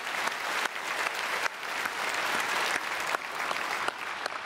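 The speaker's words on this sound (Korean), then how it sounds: "우리 박수로 축복하겠습니다." A church congregation applauds after a choir's performance at a special early-morning service, sustained dense clapping from a large crowd in a reverberant hall, with no voices over it.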